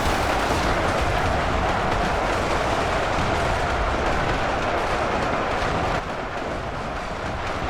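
Massed gunfire from huge numbers of troops in the battle simulator UEBS 2, a dense unbroken roar of overlapping shots at steady loudness with no talking.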